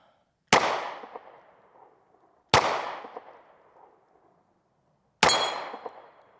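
Three sharp, loud 9mm pistol shots spaced a couple of seconds apart, each ringing off a Caldwell AR500 steel dueling tree with a metallic clang that decays quickly outdoors.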